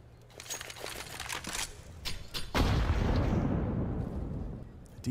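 A grenade detonates in Counter-Strike: Global Offensive during a pro match, its loud broad boom hitting midway and rumbling off over a few seconds after a patter of softer game noises.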